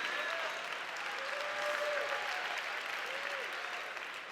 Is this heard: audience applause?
yes